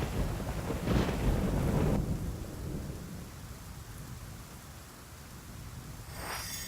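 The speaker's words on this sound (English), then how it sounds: "This very rainy city." Steady rain falls over a rainy city in a video game while thunder rumbles low and heavy near the start, followed by a constant hiss of rainfall and a softer distant roll near the end.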